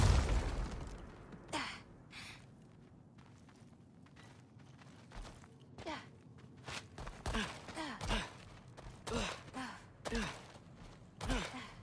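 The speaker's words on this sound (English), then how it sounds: "I think I can hear something breathing near the back of the room." A creature breathes in the God of War Ragnarok video game: quiet, heavy, sighing breaths repeat at uneven intervals and grow more frequent toward the end, set against a low, dim background.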